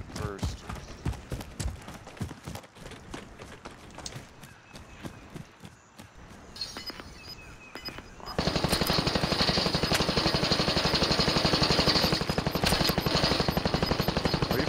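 Rapid automatic gunfire in an online battle-royale style video game, a dense unbroken burst filling the second half after scattered earlier shots, with players talking over the action.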